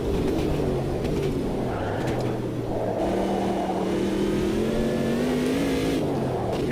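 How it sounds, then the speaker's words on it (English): A racing car in the Automobilista 2 sim racing game brakes hard uphill over the line, its engine note sliding down and rising again in a loud, continuous, buzzing drone, with no voices. "Up and over the line, braking hard uphill."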